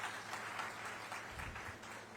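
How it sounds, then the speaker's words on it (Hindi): Applause from an audience at a government event in Chhattisgarh, cheering a young participant; steady, fairly faint clapping runs throughout with a low murmur underneath. "एक और साथी हैं, इनके लिए भी तालियां"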